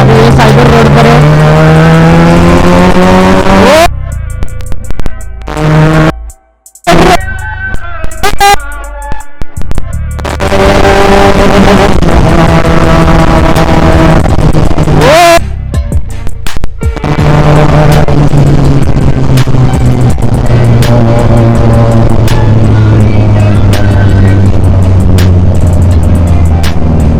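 A Benelli 300 motorcycle with a loud aftermarket exhaust revs hard on a road in Kolhapur, roaring up and down through repeated throttle blips and crackling cutoffs, close and very loud over a long stretch.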